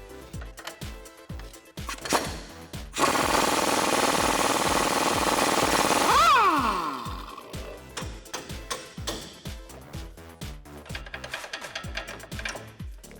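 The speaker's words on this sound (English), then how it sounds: "So we're going to pop that strut bolt and nut first." A 24mm socket and 21mm socket or wrench work a strut bolt and nut on a 2006-2018 Ram truck, giving rapid rhythmic ratchet clicking close by, with a few seconds of harsher continuous grinding in the middle.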